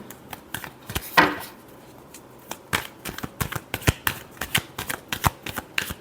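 Tarot cards being shuffled by hand in a quick run of crisp riffling flicks and soft slaps that repeat unevenly, close up, with no voices.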